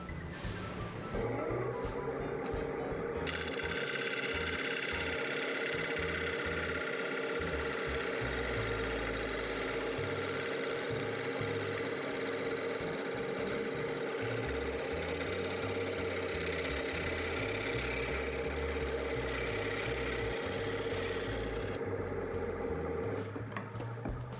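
A wood lathe spins a poplar bowl while a gouge cuts it, giving a steady motor drone with continuous rough scraping and hiss, loud and close for the whole stretch.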